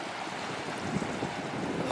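Strong wind blows along a seashore where a fishing boat has run aground, making a steady broadband roar and buffeting for a couple of seconds, with no voices.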